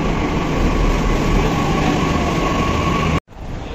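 Steady loud rumble of a Delhi Metro train in motion, continuous rolling noise that cuts out abruptly near the end, then resumes.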